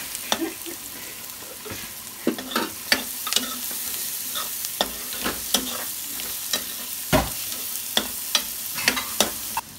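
Chopped onions browning in a pan over a village-style cooking fire, continuous sizzling punctuated by frequent sharp scrapes and clacks of a stirring utensil, close and loud, with no talking.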